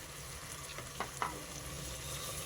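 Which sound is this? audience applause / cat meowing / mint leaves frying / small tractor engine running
mint leaves frying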